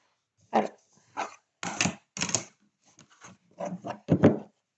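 Pet dog indoors barking repeatedly nearby, about nine loud, separate barks in an uneven rhythm with short silences between.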